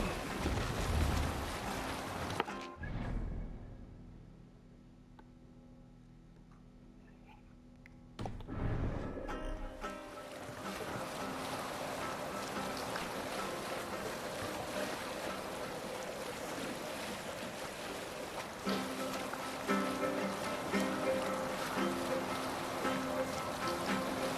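Viking longship under sail on open sea in Assassin's Creed Valhalla, a steady wash of waves and wind roaring broadly around the hull, dropping quiet for a few seconds before surging back and continuing loud to the end.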